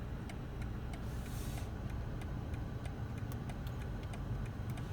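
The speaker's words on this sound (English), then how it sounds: "The blinker also activates itself." Turn signal of a 2019 BMW 3 Series ticking in a steady, even rhythm of faint clicks inside the cabin over a low hum of the car's interior.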